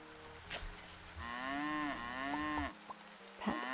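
A cow in a farming video game moos twice in long, low, drawn-out calls, loud and close, with faint clicks between and no talking.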